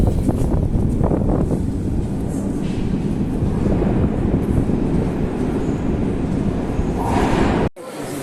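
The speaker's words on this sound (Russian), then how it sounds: "Поезд, как всегда, хороший." Continuous loud rumble and rattle of a moving train heard from inside, steady throughout, with a sudden brief dropout just before the end.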